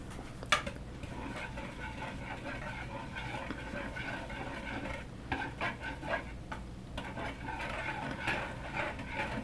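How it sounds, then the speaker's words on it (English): Steady whisking of an egg into a sugar-free chocolate cheesecake mixture, a continuous stirring scrape against the bowl with a few louder clinks, moderately close and alone without talk. "And then you can whisk that together and whisk the egg in."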